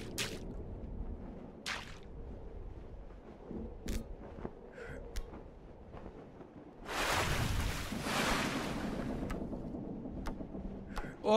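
Water in a video game: scattered drips and splashy squelches give way to a sustained rushing wash of flowing water that fills the middle stretch, with no talk over it.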